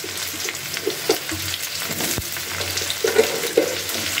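Potatoes and radish sizzle in a pan while being stirred, a constant frying hiss broken by soft scraping and a few clinking knocks of the stirring utensil.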